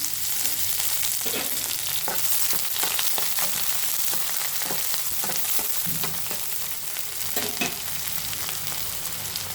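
Thinly sliced onions and green chillies sizzle in hot oil with fried bay leaves in a pan, a steady close crackle with occasional stirring scrapes and no talking.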